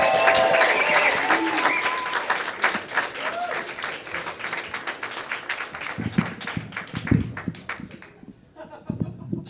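A comedy club audience breaks into dense, loud applause and cheering for a stand-up comedian taking the stage, with the clapping thinning out toward the end as a voice begins to speak.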